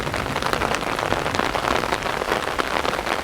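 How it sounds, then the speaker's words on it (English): Heavy rain pours outdoors along a rail corridor north of Bukit Panjang in Singapore, a steady, dense hiss of drops pattering on surfaces with no talk. "I don't mind a bit of rain, but it starts getting heavy like this"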